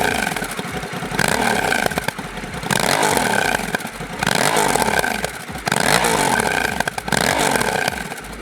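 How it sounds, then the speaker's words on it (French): A Honda Africa Twin 1100 DCT engine revs loudly and close, its pitch rising and falling through gear changes with quick automatic throttle blips on downshifts, under steady wind and road noise. "Honda a ajouté un petit coup de gaz lors du rétrogradage automatique de la moto"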